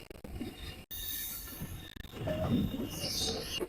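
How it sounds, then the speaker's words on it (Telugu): A goods train rumbles past near a tunnel area with grinding wheels and high metallic squeals, the loud passage swelling toward the end with a brief gap midway. "గూడ్స్ ట్రైన్ ఎలా జరిగిందో చూసారా ఫ్రెండ్స్?"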